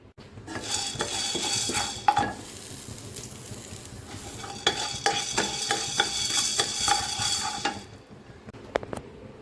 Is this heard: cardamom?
yes